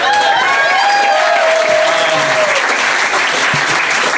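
Applause from a live comedy-show audience welcoming a poet to the stage, a dense, loud wash of clapping hands that fills the room steadily throughout, with a few shouts and whoops rising above it.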